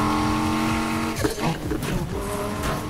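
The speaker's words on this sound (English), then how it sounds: "There's that NOS kick, he had those blue flames coming out." Nitrous-boosted car engine in the racing game Need for Speed Heat, a loud sustained engine roar with rising and falling tones and bursts of tire and skid noise throughout.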